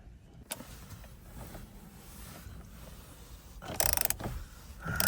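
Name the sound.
loosening the C6 Corvette steering wheel bolt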